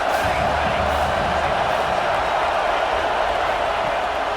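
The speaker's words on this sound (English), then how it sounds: "This crowd trying to make life miserable for this offense." Stadium crowd noise from a college football video game with Iowa State at Oklahoma State: a dense, steady roar that stays loud and unbroken throughout.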